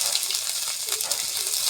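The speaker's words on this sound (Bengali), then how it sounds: "রসুনও দিচ্ছি" Whole garlic cloves sizzling in hot oil with a white cumin tempering, a continuous bright close hiss that holds steady and fairly loud throughout, with a soft voice faintly present.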